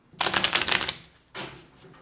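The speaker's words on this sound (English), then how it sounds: "let's get one more shuffle in" Tarot cards are shuffled in a quick riffling burst, followed by a shorter second shuffle, close and crisp with no talking.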